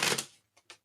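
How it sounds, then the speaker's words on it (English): Tarot cards being shuffled: a loud burst of riffling card flutter for almost half a second, then two short soft taps as the deck is squared or cut, with no talk. "I'm going to do 2 more shuffles and cut the deck"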